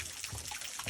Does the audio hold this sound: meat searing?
no